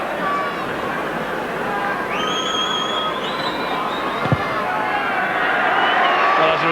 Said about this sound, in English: sir, but the whistling's putting me off.